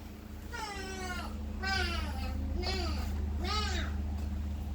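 Several drawn-out cat meows, one after another at steady volume, rising and falling in pitch over a constant low electrical hum.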